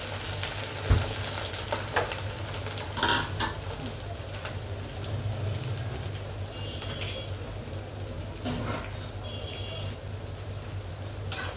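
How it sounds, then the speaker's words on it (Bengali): Spice paste sizzles steadily in hot oil for a beef curry, a continuous close frying hiss with occasional stirring scrapes and light clinks throughout, no talk. "পেস্টটি আমি ভাজা ভাজা করে ভেজে তারপর মশলা দেবো, আগে ভেজে নিই।"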